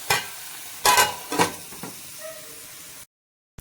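Tomatoes and onions for vegetable sambar sizzle in a pan while a spoon stirs them, a steady frying hiss broken by several scraping strokes, close and clear, cutting off abruptly near the end.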